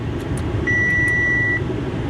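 A steady electronic warning tone from a Chevy Tahoe at a Copart lot, signalling an open door, sounds as one sustained beep of just under a second over a low idling engine hum inside the cabin.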